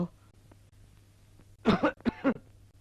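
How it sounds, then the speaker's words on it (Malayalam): A person coughs several times in two short harsh bursts, close and fairly loud after a quiet stretch, in a scene set among snacks and milk. "ചുമയാണല്ലേ?"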